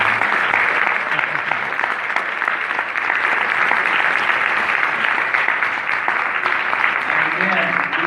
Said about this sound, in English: Please give Kirk another round of applause.